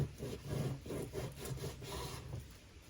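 A knife trims fat off a steak before it is cut into thin strips, making soft repeated rasping strokes against the meat and board. The sound is quiet and close, with no talking.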